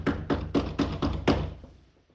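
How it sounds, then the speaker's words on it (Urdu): Cartoon door knocking, six evenly spaced knocks in quick succession on a wooden-sounding door, close and clear, fading out after the last one. "پھر چیل مٹھو طوطے کے گھر جاتی ہے اور اس کے دروازے پر دستک دیتی ہے۔"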